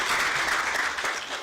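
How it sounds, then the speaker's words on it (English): A short burst of steady clapping from an audience at a formal session of the African Committee of Experts on the Rights and Welfare of the Child, dense and even throughout. "Let's give her a round of applause."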